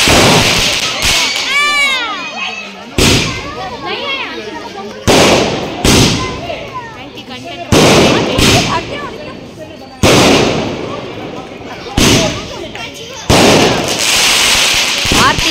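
Fireworks and firecrackers go off at an apartment during a Ram Pooja celebration: a series of loud, close bangs and crackling bursts, one with a rising whistle, spaced a second or two apart, with voices in between.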